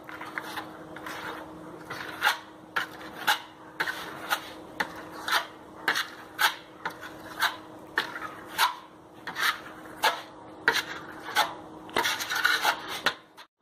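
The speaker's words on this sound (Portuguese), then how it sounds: "Vai colocar em uma desempenadeirazinha de aço e vai espalhar sobre o local." A steel trowel spreads wood-effect coating across a wall in repeated rasping scrapes, roughly one sweep per half second, close and clear with no talking.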